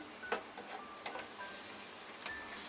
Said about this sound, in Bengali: আমি এটা নাড়তে থাকবো